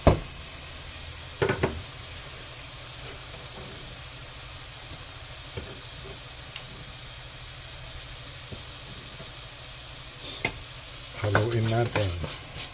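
Chopped carrots and ground chicken sizzle in a pan under a steady soft hiss, with a few scraping knocks of a spoon stirring, the clearest near the start and the end.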